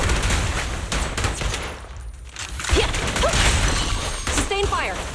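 Sustained gunfire from the Zenless Zone Zero video game rattles on as dense, continuous bursts, briefly thinning before resuming, with voices calling out over the shooting.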